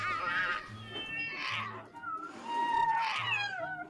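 A game cat in Project Cats meows several times, with drawn-out, tonal, close and fairly loud calls over soft looping background music.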